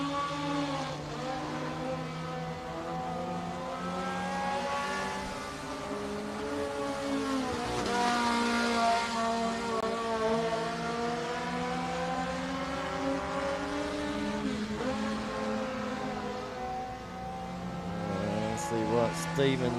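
Race cars at Wartburg Speedway, a Fourth of July race night, roar steadily around the racing surface, their engine tones rising and falling as they circle, while a track announcer talks continuously over the noise.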